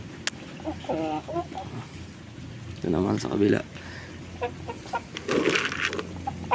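Backyard farm chickens clucking in scattered bursts near and around, with a person talking intermittently over the birds.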